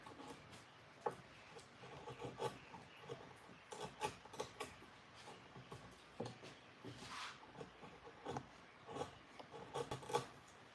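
Hand trimming with a file or rasp on a wooden bunk bed runner pocket in a home workshop: repeated short scraping strokes, faint and close, in an irregular rhythm with no talking.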